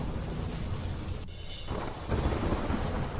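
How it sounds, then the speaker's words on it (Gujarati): A heavy downpour in Navsari roars as a dense, continuous hiss of rain, with a low thunder rumble underneath, briefly cut off before surging back louder. "નવસારીમાં ધોધમાર વરસાદ બાદ અનેક વિસ્તારોમાં જળબંબાકારની સ્થિતિ."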